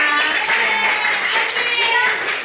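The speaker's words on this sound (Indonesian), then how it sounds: "Ya, tepuk tangan dulu dong buat Anissa." Audience clapping in a classroom-style health education session, a steady dense patter of many hands filling the whole moment at even loudness, with voices mixed in.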